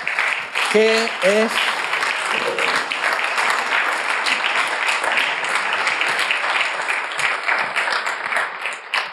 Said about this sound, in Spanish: Un aplauso para nuestro director,